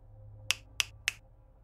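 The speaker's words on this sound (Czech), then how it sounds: "vyštěkne a luskne prsty" Three sharp finger snaps ring out in a quick, even rhythm, close and crisp against a quiet background, with no talk.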